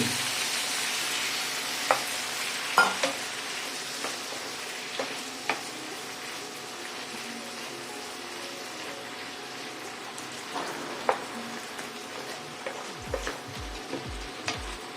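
Prawns sautéing in a pan for a coconut-based safed curry make a soft, even sizzle punctuated by scattered sharp clicks and spatula taps, with a few low knocks toward the end and no talk.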